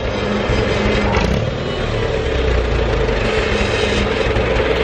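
Old John Deere 4040 tractor engine running after sitting a long time, a steady low rumble holding even and fairly loud throughout with no talk over it.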